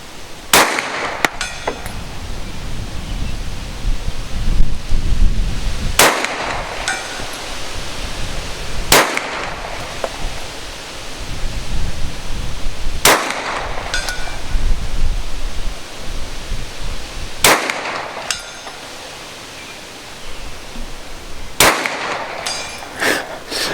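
A 1917 Artillery Luger pistol fires about six loud, sharp shots at an outdoor range, spaced several seconds apart, each with a short echoing tail over steady wind-like background noise.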